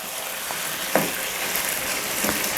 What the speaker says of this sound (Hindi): तो अब हम यहाँ पे नमक जो डाल के 3 से 4 मिनट ऐसे ही इसको पकाएंगे, यानी भून लेंगे